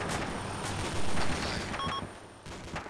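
DShK heavy machine gun in the ARMA 2 game firing on a snowy compound, a dense rolling burst of heavy gunfire with sharp reports layered over one another, loud and continuous for the whole stretch.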